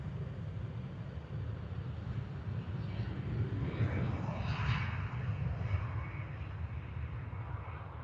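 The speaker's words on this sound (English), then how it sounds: "Crosswind caught that on takeoff a little bit." A Ryanair 737 Max 8 takes off from Liverpool Airport in a crosswind. Its jet engines make a steady, moderately distant roar and rumble that stays even throughout.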